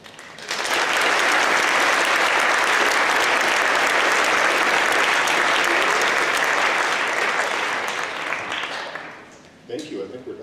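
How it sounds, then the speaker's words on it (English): A final round of applause at a high school academic awards night for students, parents and sponsors: a loud, sustained crowd clapping that rises quickly, holds for several seconds, then tapers off with a few last scattered claps. "one final round of applause before we go"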